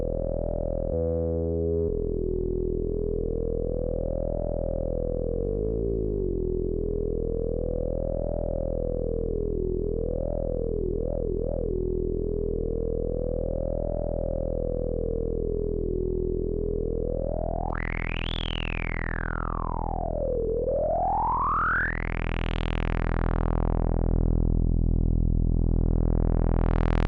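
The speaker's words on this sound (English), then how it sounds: "it's the sound of someone manipulating a synthesizer and like doing all these like little things with the filters." A synthesizer drones continuously while its filters are manipulated. The tone wobbles, warbles, and sweeps up and down in wide, smooth arcs, growing brighter toward the end. It plays loud and alone, with no talking.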